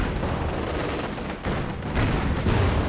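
Anti-tank guns fire repeatedly in a 2v2 tank-battle strategy game, their shots blending into dense, continuous rumbling gunfire and booms with no pauses, loud and close throughout.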